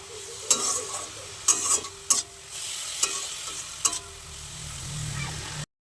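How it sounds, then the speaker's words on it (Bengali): Leafy greens frying in a home kitchen pan give a steady sizzle, broken by several sharp scraping stirs that come at irregular intervals, close and fairly clear, with no talking. "আর এই যে শাক ভাজা হচ্ছে"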